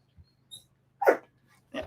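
A dog gives two short, sharp barks a moment apart, fairly close and moderately loud, with quiet in between.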